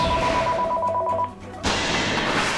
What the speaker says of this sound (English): sorry if you guys can hear the phone